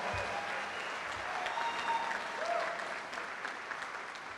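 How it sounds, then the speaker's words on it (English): Commencement audience at Bucks County Community College applauding the student Madrigal Singers, a steady wash of many hands clapping, fairly distant and even, with a few faint tones over it. "Let's give a round of applause to our student"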